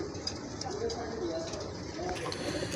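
Pigeons coo softly amid the steady crowd din of a busy pigeon market, the low calls faint and partly masked while people talk nearby.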